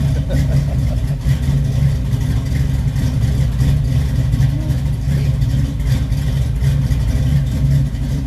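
1969 Camaro SS V8 with an aftermarket cam idling loudly up close, a deep, lumpy rumble with an uneven loping rhythm held steady throughout.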